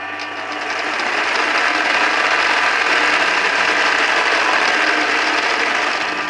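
A Ralson 130 sewing machine driven by an electric motor, stitching embroidery work without paper backing: a steady, loud, continuous mechanical whir and rattle that starts up and runs evenly to the end, with no talking.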